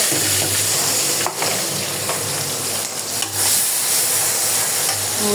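Chopped onion, tomato and green chili hit hot oil and fry with a loud, continuous sizzle, broken by a few brief stirring scrapes.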